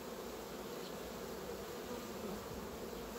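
Honeybees at a hive give off a dense, continuous buzzing drone, close and even in level throughout with no voices.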